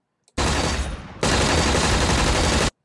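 Teammate gunfire in the battle royale video game Ring of Elysium: a loud, sustained automatic burst that breaks off briefly, then resumes and runs unbroken before stopping abruptly.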